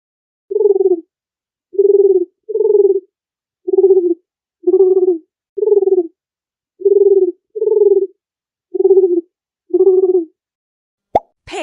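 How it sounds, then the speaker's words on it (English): A dove cooing up close, a series of about ten short, soft, low coos, some in quick pairs, separated by brief silences. "Dove."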